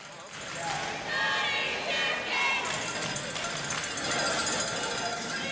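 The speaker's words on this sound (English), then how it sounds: "They're up there chanting in the top rafters." A crowd chants high up in the rafters at a roller derby consolation game, a steady roar of massed voices under close commentators' talk.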